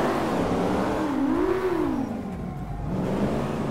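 A car engine in GTA 5 revs with a rising and falling whine, loud and steady across the short stretch with no talk over it.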